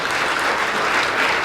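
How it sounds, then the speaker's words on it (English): Crowd applause fills the room at an adolescent girls and young women summit, a continuous, even burst of many hands clapping. "Can we give them a big hand of applause?"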